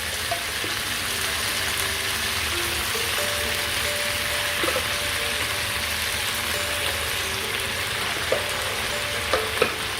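Mutton sizzles and fries steadily in a pan over lowered flame, a dense continuous crackle with a few faint clinks of a utensil, close and alone without talk.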